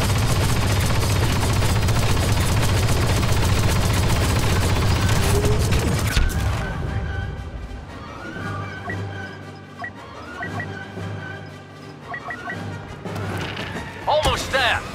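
Heavy guns firing in Star Wars Battlefront II on Felucia, a dense, loud barrage of rapid shots and crashing impacts for the first half, then scattered blasts and mechanical clatter under a voice.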